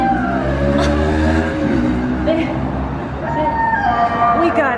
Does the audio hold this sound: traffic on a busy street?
yes